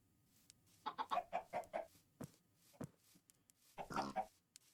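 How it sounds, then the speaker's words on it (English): Baby chickens in a video game cluck in a quick run of short, close calls, with a brief pause before a second burst of clucking. "baby chicken"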